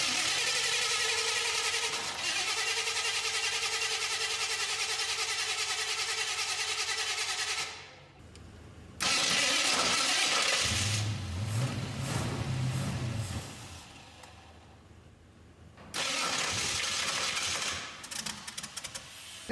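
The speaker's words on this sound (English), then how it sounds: "Got the motor running." A fire-damaged 1966 Ford Mustang with a newly replaced distributor and fresh spark plugs cranks, then catches and runs with a steady loud drone, cutting out, restarting and settling into running again, with no talk.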